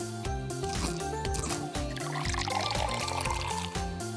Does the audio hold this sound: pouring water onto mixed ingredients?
yes